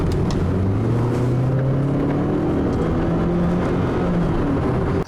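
A 2013 Kia Optima SX-Limited with a 2-liter turbo four-cylinder drones steadily while driving, engine pitch climbing smoothly under a constant road and tire rush, heard from inside the cabin.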